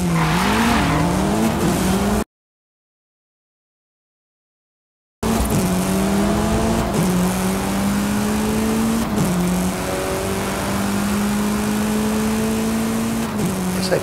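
Race cars in a racing video game passing other vehicles, engines whining and revving loudly with shifting pitch and occasional tire squeal, steady close engine drone broken by a brief gap.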